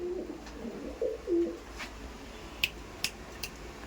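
Giribaz pigeons coo in a few short low bursts early on, followed by scattered sharp clicks and taps, fairly close.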